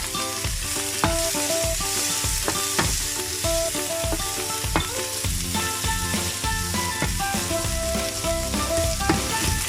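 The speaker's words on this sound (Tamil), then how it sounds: "2 கிராம்பு, ஒரு 2 ஏலக்காய் போட்டுட்டு லேசாக வதக்கிட்டு அப்புறம் இந்த வெங்காயத்தை போடுறோம்" Onion sautéing in a pan with cloves and cardamom, a steady close sizzle and stirring heard beneath rhythmic background music with plucked notes and beats.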